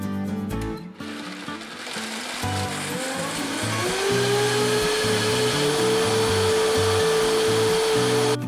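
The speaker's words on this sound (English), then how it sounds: "Blend on high speed." A blender whirs steadily at high speed blending mushroom soup with cashew cream, its motor pitch settling into a sustained whine over rhythmic background music.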